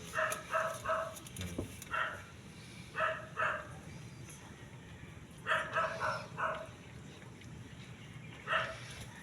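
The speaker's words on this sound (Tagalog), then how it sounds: "Ayan ang mga makukulit na aso" Pet dogs, one named Tanggol, bark in short clustered bursts of two or three yaps, separated by pauses, fairly faint and somewhat distant.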